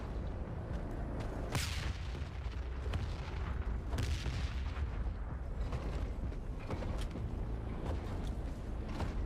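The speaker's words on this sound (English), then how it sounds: "Okay, here come the rockets." Rocket fire in the war video game The Forever Winter: sharp booming launches and blasts punch through a constant dense roar of battle, several distinct hits spaced irregularly.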